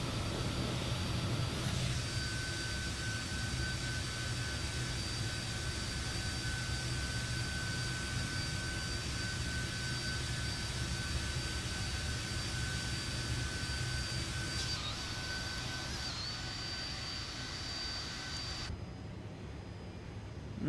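Jet engines of a Fokker F28 airliner in Microsoft Flight Simulator 2024, a steady loud whine and roar with a sustained high tone, running continuously before cutting to a quieter hum near the end.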